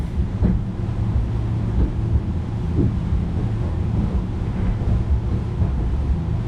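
Constant low rumble of strong wind buffeting the microphone, with engine drone and rough water noise underneath, steady throughout, on a boat at sea between Miami and Charleston.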